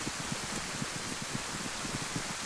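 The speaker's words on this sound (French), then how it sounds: "on se prend une rincée là" Rain falling in the forest in the video game DayZ on the Livonia map, a constant soft hiss of downpour with faint irregular patters, steady and unbroken throughout.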